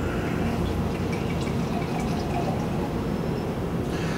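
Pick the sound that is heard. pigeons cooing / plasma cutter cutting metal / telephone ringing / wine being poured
wine being poured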